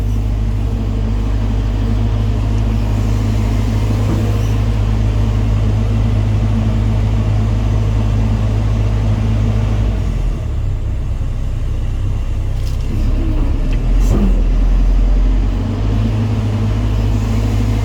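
A CAT 320GX excavator engine runs at maximum speed mode, giving a loud, continuous, close diesel roar and rumble for the whole stretch, with a short dip and a surge near the middle.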